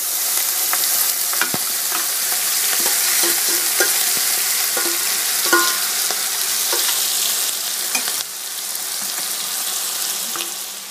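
Mutton biryani mixture cooking in a pot, a loud steady sizzle with scattered spits, pops and stirring scrapes, close by and uninterrupted by voices.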